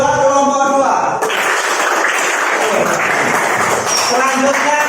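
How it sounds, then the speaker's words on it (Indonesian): Schoolchildren in an elementary classroom clap for a group of classmates. A voice speaks just before the loud, close clapping bursts in, and talking returns as the applause fades at the end. "Tepuk tangan buat kelompok 2"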